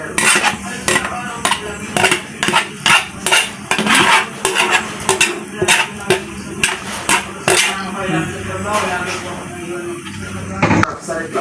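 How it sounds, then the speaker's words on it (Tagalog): A spoon scrapes and clanks against a pan while stirring sautéed bottle gourd (upo) mixed with soaked glass noodles (sotanghon), giving rapid, rhythmic metallic knocks close by, with a person talking over it. "Halo-haloin lang po ulit yan."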